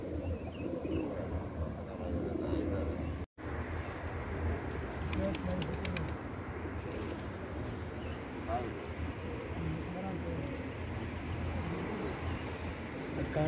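Pigeons in Saudi Arabia coo and flutter in a dense flock, with a continuous low chorus of cooing and occasional wingbeats, while someone talks over the sound.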